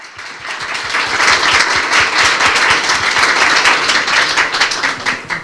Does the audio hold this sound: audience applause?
yes